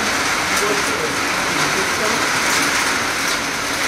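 Steady rainfall makes a constant broadband wash of patter, fairly loud and close, with no gaps across the short stretch.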